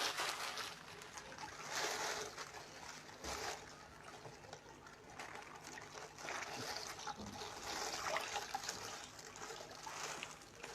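Tie-dyed fabric being rinsed in water, with continuous splashing and trickling sloshes that swell and fade around the 2-second and 8-second marks, close and fairly soft throughout.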